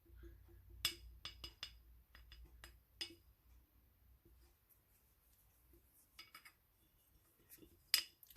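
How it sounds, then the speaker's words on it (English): A utensil scrapes the inside of a jar in a quiet room, making sparse, close clinks and short scratchy strokes that come in irregular bursts with pauses between them. "give me just a second to scrape my jar"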